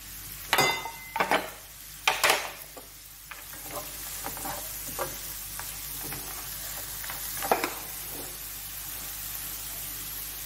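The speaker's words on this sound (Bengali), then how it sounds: "গরম মশলা গুঁড়ো 1 চামচ, কাজুগুলো দিয়ে দিচ্ছি এবারে" Cashews with garam masala powder frying in a pan for veg fried rice, opening with several sharp clattering stirs, then settling into a quiet, even sizzle broken by one more scrape.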